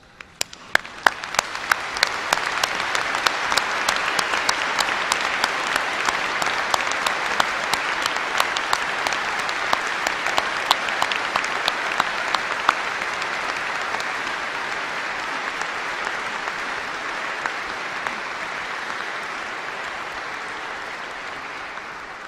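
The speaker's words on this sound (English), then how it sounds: "let's give another round of applause to all mothers" Commencement audience at a university ceremony applauding mothers, sharp scattered claps building quickly into a sustained, full round of applause from a large crowd that gradually thins toward the end.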